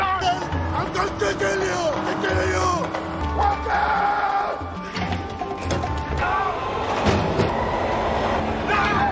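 Train noise from a film scene, a steady rumbling rail roar with some clatter filling the background under talk and other film sounds throughout.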